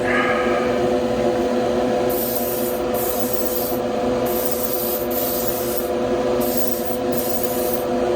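A spray gun applies a light coat of paint to a 1970 Chevelle in a hissing, steady stream, nearby and loud, pulsing on and off in short passes.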